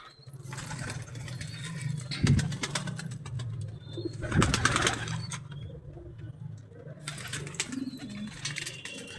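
Kaldam pigeons coo in a loft at night, a low steady murmur of overlapping calls running throughout, with a couple of brief louder thumps or flaps and faint rustling.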